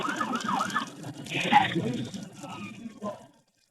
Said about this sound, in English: Over the howl of the sirens, you can hear him say